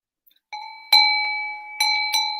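A bell on a leather strap clanks and rings as it is set down, several bright metallic strikes with ringing tones that fade slowly between hits, alone in a quiet room.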